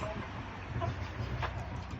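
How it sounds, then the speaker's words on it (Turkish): Laying hens in separate cages cluck and murmur softly in a steady chorus over a low background rumble of ventilation, the hens moulting. "Bunlar normal yumurta tavuğumuz."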